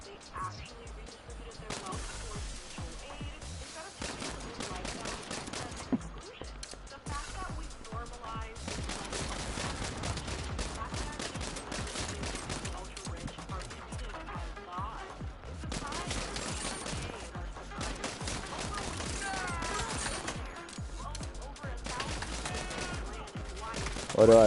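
Repeated pistol shots in Saints Row, sharp cracks scattered through a long stretch of dense game noise, with a person talking over much of it.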